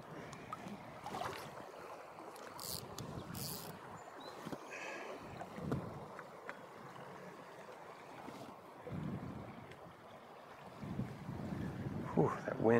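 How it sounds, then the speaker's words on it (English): Steady wind blowing across a river during a fly fishing outing for trout, a continuous broadband rush with gusts that swell and ease, loudest toward the end. "that wind is taking the line. Kind of hard to get adrift, that wind like that"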